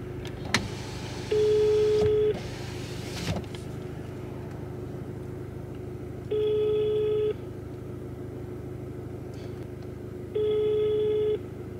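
An outgoing phone call plays its ringback tone inside a car: three steady one-second tones spaced about four seconds apart over a constant low cabin hum, with a brief clatter near the start.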